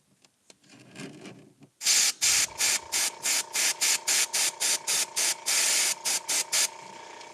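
An airbrush sprays paint in a rapid series of short hissing bursts, with one longer burst, loud and close, after a quieter stretch of handling noise at the start.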